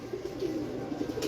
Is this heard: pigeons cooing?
yes